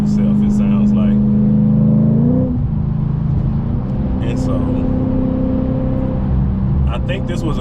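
A supercharged Audi B8.5 RS5 with a JHM exhaust pulls hard under acceleration, its loud steady engine drone shifting pitch about midway, while someone talks over it.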